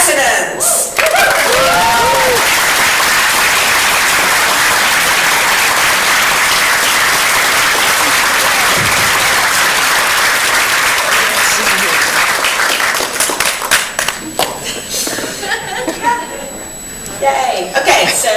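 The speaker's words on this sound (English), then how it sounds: "another round of applause to all the exhibits today" Audience applause at an indie games festival award presentation, loud sustained clapping from a crowd for a long stretch, with some chuckles and voices mixed in and the clapping thinning out near the end.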